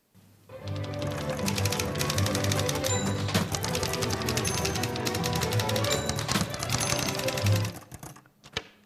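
A fast orchestral novelty piece plays loud and continuous for about seven seconds, with dense rapid clicking keys and bell dings over busy strings, ending abruptly.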